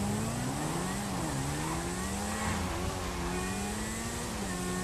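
A Bati RR sport motorcycle in GTA Online drones steadily as it is ridden toward a tuning shop, its engine note wavering up and down with throttle changes, loud and continuous, with no talking.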